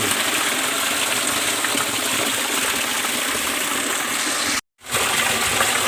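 Natural water gushing and dropping near a village, a loud, continuous rushing and slapping wash heard close by, broken by one abrupt silent gap before the flow resumes.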